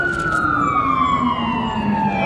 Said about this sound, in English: The ambulance went one way, then they turned around and went right back the other way.